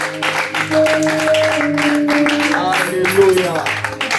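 A church congregation claps and cheers during a French-language service, a dense wash of hand claps with voices calling out over it and sustained tones underneath.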